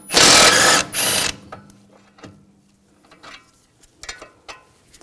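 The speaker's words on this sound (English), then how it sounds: "Using a 16mm wrench on the bolt, 16mm socket on the nut." Loud burst of ratcheting at the start as a 16mm wrench and socket work the control arm bolt on a 2007-2013 BMW X5, followed by quieter scattered metal clicks and taps.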